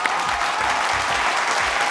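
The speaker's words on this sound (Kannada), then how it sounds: "ಚಂದ್ರ ಸರ್, ಬರ್ಲಿ ಜೋರಾದ ಚಪ್ಪಾಳೆ." Audience applause at a show: dense, steady clapping from a crowd that fills the whole moment at an even level, close and loud, with no talking.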